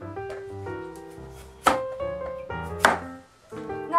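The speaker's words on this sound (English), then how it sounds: "cut it on the chopping board" A knife chops food on a chopping board with two sharp, distinct strikes about a second apart, set against a steady tonal background.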